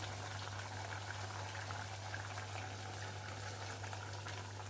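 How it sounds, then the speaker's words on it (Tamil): A pot of tamarind-free curry simmers and bubbles on the stove, giving a faint, steady boiling hiss over a low continuous hum, with no voices. "கொஞ்சம் நல்லா கொதிக்கட்டும்"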